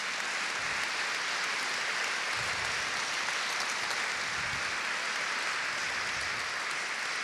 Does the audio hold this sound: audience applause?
yes